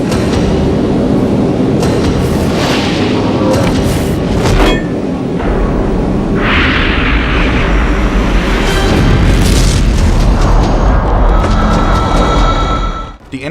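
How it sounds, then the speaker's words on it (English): Energon detonating in a Beast Wars Transformers cartoon, a loud sustained roar of cartoon explosions with crackling bursts and rumbling debris, filling the whole stretch without pause. "The Energon detonates and everyone runs for their lives."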